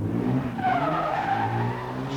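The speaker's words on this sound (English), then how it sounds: "showing us his mastery in a motor car as he uses the handbrake" A car at a 1988 Northern Ireland autotest skids through a handbrake turn, tyres squealing loudly over the engine for about two seconds, with no talk.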